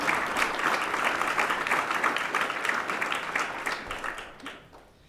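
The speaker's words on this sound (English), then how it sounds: "He deserves a round of applause, too." A crowd applauds at a policy talk, dense sustained clapping that holds steady for several seconds before tapering off near the end, close and full with no voice over it.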